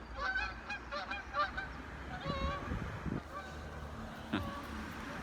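Geese honking in a flock outdoors, repeated overlapping honks at moderate distance over a constant wash of background noise, with no talk.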